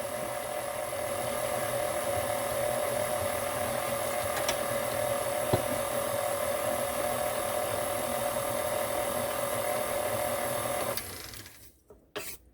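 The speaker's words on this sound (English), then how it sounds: "I use the mixer on low, scrape down the sides until it really comes together." A stand mixer running on low while mixing New York style bagel dough, giving a steady close motor whir with a constant tone for about eleven seconds before it stops.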